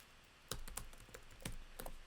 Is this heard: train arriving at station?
no